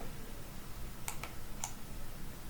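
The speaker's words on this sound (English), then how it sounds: "I'm typing VG in my keyboard" A few sharp computer keyboard key clicks, two quick taps then one more, sound faint and close against a quiet background hiss while entering a shortcut in Revit.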